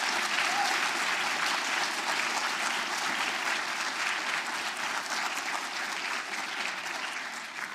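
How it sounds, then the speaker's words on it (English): Sustained audience applause fills a hall at the closing session of a planetary health conference, a steady, dense wash of many hands clapping without pause and fading slightly toward the end. "So the biggest applause."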